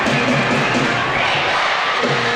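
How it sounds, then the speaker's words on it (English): Stadium crowd at Pride Park during an England vs Australia football match, a broad, loud roar of cheering and chanting voices that stays dense and sustained throughout. "You can hear the youthful voice inside the Pride Park Stadium crowd this evening."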